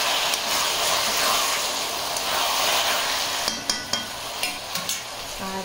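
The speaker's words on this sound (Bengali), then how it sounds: "এখানে আমার বাঁধাকপির তরকারি হচ্ছে।" Cabbage curry fries in a pan at home, a loud continuous sizzle near the mic, with a few sharp scraping stirs of the spatula toward the end and no voices.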